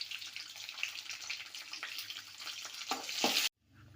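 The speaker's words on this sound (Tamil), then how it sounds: "கடலைப்பருப்பு, உளுந்து பொன்னிறம் ஆனோடனே கருவேப்பிலை, பச்சை மிளகாய் இதை நல்லா வதக்கிக்கலாம்." Chana dal, urad dal, curry leaves and green chilies being sautéed in hot oil give a steady, bright sizzle that swells louder and then cuts off abruptly near the end.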